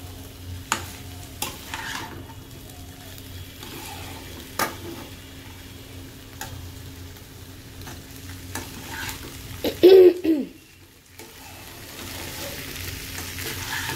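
Potato and vegetables sauté in a pan, giving a quiet steady sizzle broken by occasional spatula stirs and scrapes, with one brief louder clatter near the end; no one speaks.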